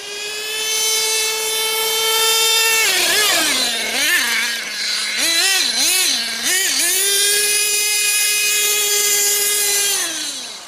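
HPI Savage X 4.6 nitro RC truck, a 2021 GT-6 model, with its small nitro engine screaming at full throttle: a loud, high-pitched whine that holds steady, wobbles up and down through several quick revs in the middle, then settles back to a sustained scream.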